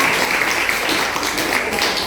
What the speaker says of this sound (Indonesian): Sekali lagi tepuk tangan untuk